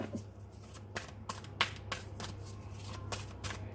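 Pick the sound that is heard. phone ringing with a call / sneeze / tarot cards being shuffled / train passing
tarot cards being shuffled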